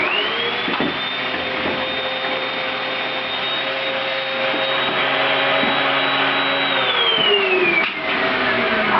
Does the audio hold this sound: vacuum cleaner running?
yes